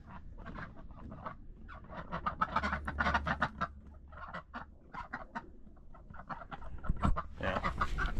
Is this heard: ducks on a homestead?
yes